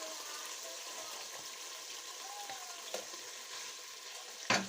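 Ghee sizzles and splatters in a hot pan with a steady close hiss, and a brief sharper crackle bursts out at the end.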